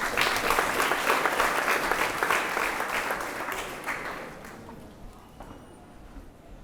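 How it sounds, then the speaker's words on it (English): Audience applause at a school awards ceremony, a dense roomful of clapping that holds steady and loud, then thins and fades toward the end. "let's applaud between them because there's too much space."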